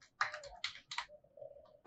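Quiet computer keyboard typing while writing HTML code, a few short bursts of close keystrokes followed by a softer run of taps.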